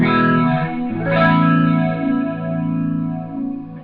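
Two big distorted chords on a hollow-body electric guitar are strummed one after the other, the second ringing out long with a wavering, effect-laden sustain.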